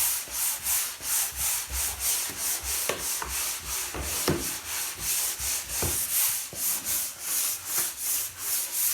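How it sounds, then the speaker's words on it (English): Steady back-and-forth strokes of hand sanding on a varnished wooden floor, a rhythmic scratchy rubbing repeated many times, close and fairly quiet with no talk. "I'm just lightly sanding it just to get rid of the grease and the grime on there."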